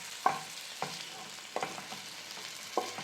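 Ingredients for a palak paneer paste fry in a pan, with a steady background sizzle broken by four sharp spatula scrapes spaced about a second apart, close and clear without any voices.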